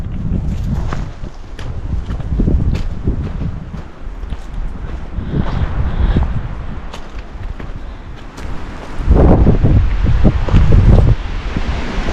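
Strong, gusty wind blows across an exposed mountain trail near Fork Ridge Meadow, roaring loudly into the microphone in uneven surges with rustling and occasional footsteps, swelling to its strongest near the end.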